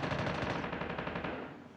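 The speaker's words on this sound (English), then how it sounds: "Someone using a legendary gun." Rapid automatic gunfire from a legendary gun in the Alcatraz shooter game, a dense, loud, continuous burst of shots lasting nearly two seconds before trailing off slightly.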